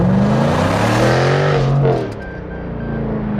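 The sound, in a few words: Jaguar F-Type R accelerating in dynamic mode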